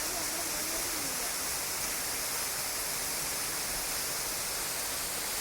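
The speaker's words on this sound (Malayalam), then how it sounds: "അങ്ങനെ വേരുകളുടെ മുകളിലൂടെ ജലം ഇങ്ങനെ ഒഴുകി" Stream water running over and around tree roots at a temple site in Meenmutty, a steady broadband rush of flowing water that fills the whole stretch without pause.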